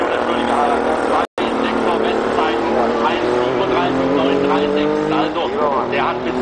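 A Group C endurance race car, such as a Mazda 757, Porsche 962 or Jaguar XJR, roars past on the first lap, its engine droning loudly and shifting pitch under continuous German commentary.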